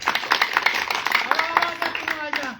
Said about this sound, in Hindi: बजाओ, ताली जोरदार।